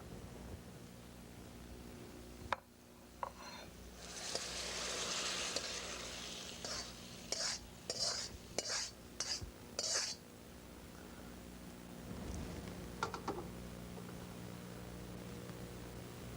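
A mixed vegetable sauté sizzles faintly in a pan, with a soft hiss building and a run of short stirring scrapes in the middle before it settles back to a low, quiet fry.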